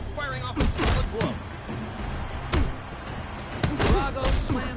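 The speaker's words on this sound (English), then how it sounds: "Drago slams hard into his opponent." Boxing punches slamming into an opponent in the Creed Rise to Glory VR game, several heavy thuds at irregular intervals over steady game noise and a commentator's voice.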